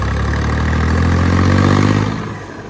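A loud turbocharged tractor engine revs and roars steadily in third gear, its heavy rumble rising slightly before easing off toward the end, close and continuous.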